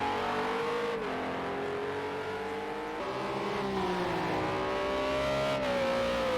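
Race car engine in the Project CARS racing game at the Le Mans Bugatti Circuit, a steady loud drone with pitch rising and dipping through gear changes, continuous and close with no talk.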